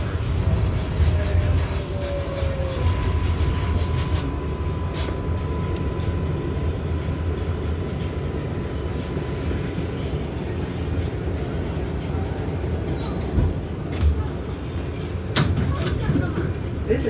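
An NYC subway R188 train runs on the 7 skip-stop service toward Flushing–Main Street, with steady rumble and rail noise heard from inside the car. An automated announcement voice talks over it throughout.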